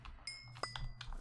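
A sheep bleats in Minecraft, a short wavering cry over light game sounds and a low hum, with quick clicks and chimes around it.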